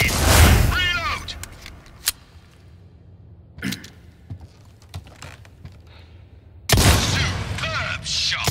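In a Resident Evil 4 shooting range, scattered sharp gunshots ring out singly with pauses between them, bracketed by louder bursts of game sound at the start and end.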